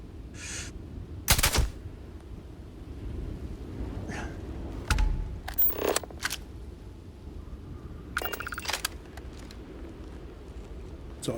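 Sparse video-game gunshots, a few sharp bursts spaced irregularly among quieter background noise, with a brief voice in between.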